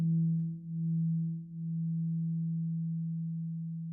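Bass guitar harmonics ringing together for tuning, a steady pure low tone that swells and dips twice as the pitches beat against each other, then settles into one smooth sustained note, played alone.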